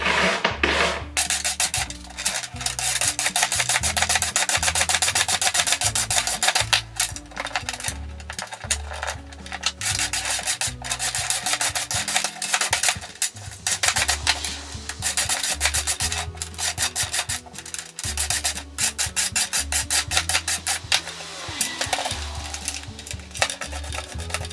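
A wire brush scrubbing rust off an old Goodell Pratt chain drill, loud rapid back-and-forth rasping strokes in a steady, close rhythm with brief pauses.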